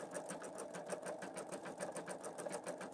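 Pfaff Creative Vision embroidery machine stitching at slow speed, a steady rapid mechanical clatter of the needle, faint and close, running alone without talk.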